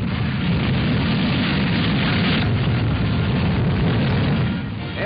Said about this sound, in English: so the huge missile takes off.